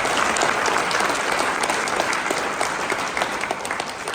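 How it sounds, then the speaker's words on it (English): At a realtors' installation event, a hall audience gives steady, dense applause that stays loud throughout the short stretch and tapers slightly at the end. "please give Virginia and her team a round of applause"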